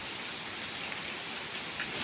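Heavy rain pours down steadily in a dense, even hiss with no pauses, a continuous downpour on an open road and roofs, with no voices.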